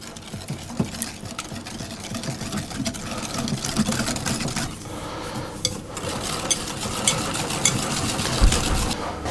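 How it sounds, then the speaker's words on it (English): Crushed ginger and egg get stirred into cookie dough, a faint scraping and clinking of utensil against bowl under a low mechanical hum, with light irregular knocks scattered throughout. "I'm going to mix those until they're fully combined"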